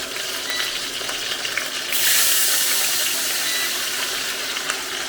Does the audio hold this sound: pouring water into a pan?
yes